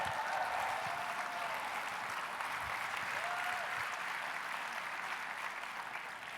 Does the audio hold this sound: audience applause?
yes